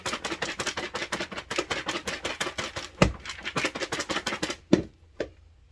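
Popcorn rattles in a lidded container, shaken hard in a quick, even rhythm for about five seconds, then a few separate thumps and a final jolt before it goes quiet.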